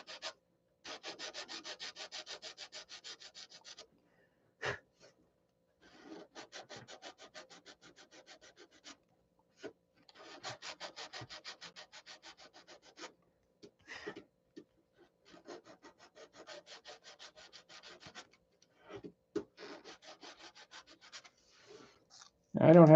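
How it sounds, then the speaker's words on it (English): Fine 320-grit sandpaper rubbed very gently by hand over a painted touch-up spot, quiet dry rasping strokes coming in steady bursts separated by pauses. "very gently, we don't want to sand through the white."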